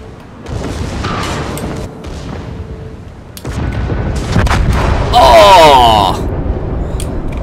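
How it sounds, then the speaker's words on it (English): Secondary guns on the Japanese battleship Mutsu fire in World of Warships as a run of booming blasts and rumbling impacts, loud and dense, layered with other game sounds. "our secondaries are opening up on him."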